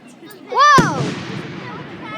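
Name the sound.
fireworks going off in rapid succession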